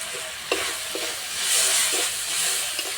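Spice masala for aloo paratha sizzles and hisses in hot oil, with a few clinking stirs of a spoon against the pan, close and steady throughout.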